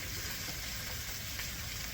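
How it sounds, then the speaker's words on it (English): Steady, dense crackling sizzle of steak frying in beef tallow in a hot pan, a continuous hiss with no breaks or voices. "So that you got that nice sizzle on there."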